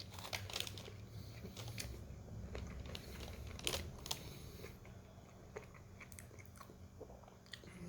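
Close, quiet bites and chews of crunchy-crusted bread that is soft on the inside, with crisp crackles and irregular crunching spread throughout.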